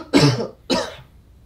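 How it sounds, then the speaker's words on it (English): Two sharp coughs from a scratchy throat, close and loud, separated by a short pause. "Is that why you're making me cough?"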